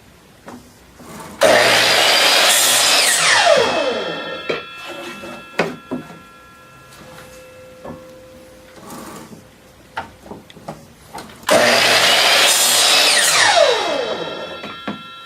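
A miter saw cuts through wood in two loud bursts, each a whining spin-up into a harsh cut that winds down, with quieter clatter and handling noises between them.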